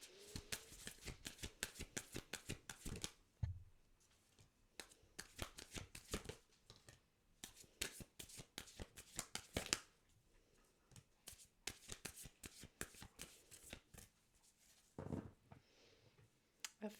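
Tarot cards are shuffled over and over in quick riffling bursts, close and crisp, with short pauses between rounds and no talking.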